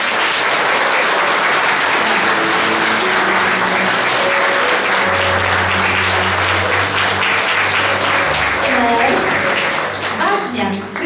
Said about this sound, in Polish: Że jeszcze zasłużyli na brawa.